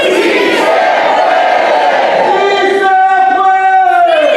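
At a labor council awards dinner, a large crowd chants in unison, loud and rhythmic, with voices rising together into a sustained, tonal shout toward the end.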